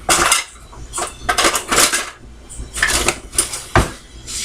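A measuring cup scoops cheesecake filling into metal cupcake pans in a home kitchen, making a series of clinks, scrapes and knocks in uneven bursts, close and fairly loud.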